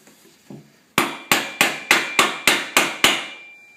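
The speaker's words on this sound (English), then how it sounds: "Just hammer it." A hammer strikes eight times in a quick steady rhythm, each blow sharp and ringing, while a mid bottom bracket is tapped into a bicycle frame. One or two softer taps come before.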